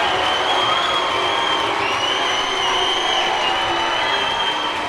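A packed high school gym crowd cheers and roars as the home basketball team runs out, a loud, continuous wash of shouting, whoops and clapping with a few high voices riding on top.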